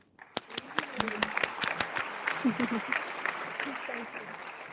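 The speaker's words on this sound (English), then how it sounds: "A warm applause to you" A small audience at a women's leadership event gives brief applause, a handful of loud, distinct claps at the start that soften into scattered clapping while voices murmur underneath.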